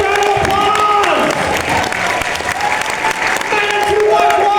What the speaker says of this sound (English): Let's give a panel a massive round of applause!